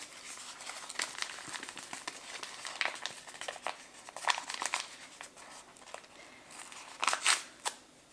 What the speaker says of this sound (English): Now we're going to add 1 package of powdered pectin.